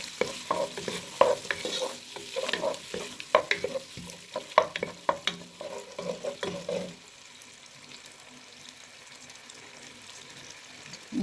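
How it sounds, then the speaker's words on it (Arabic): Onions are stirred into melted butter in a pan, a soft sizzle under irregular spoon scrapes and knocks for several seconds, after which the stirring stops and a quiet frying hiss remains. "واول حاجة هنضيف البصل تمام، نبتدي نشوحه كده."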